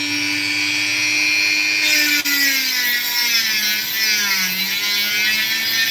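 Opal stone being cut with a high-pitched whining cutting tool, a steady loud grinding drone with a shifting pitch and no pauses.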